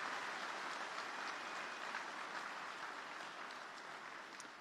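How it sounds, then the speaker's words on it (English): Audience applause at the CPAC 2018 conservative conference, a faint, distant wash of steady clapping in a large hall that slowly tapers, with no clear voices. "Would you give Karen one more round of applause for all that she does for the cause in the country?"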